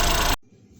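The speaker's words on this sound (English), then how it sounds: "going to let it run for a while just to warm up the oil and mix it up" A car engine idling to warm up its oil, a steady close rumble that cuts off abruptly after a fraction of a second, leaving a quiet low hum.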